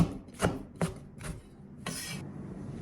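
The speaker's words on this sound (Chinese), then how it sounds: "我们准备1颗酸菜，然后我们给它切成段儿" A knife chops homemade pickled mustard greens into sections on a board, four separate crisp cuts at uneven intervals followed by a brief scraping rub, close and fairly quiet with no talking.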